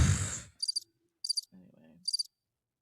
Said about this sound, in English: Little crickets.